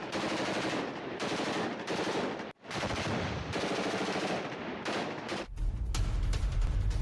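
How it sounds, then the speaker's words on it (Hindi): Sustained automatic gunfire from fighting in Manbij, northern Syria: long, dense machine-gun bursts broken by short gaps, loud and continuous, with heavier booming fire rolling in toward the end. "कैसे फायरिंग हो रही है।"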